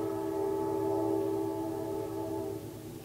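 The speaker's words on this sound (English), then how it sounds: "It's the train. Did you hear the train?" A train passes nearby and sounds its horn, a loud sustained multi-tone blare that holds steady and then fades slightly toward the end, with no talk.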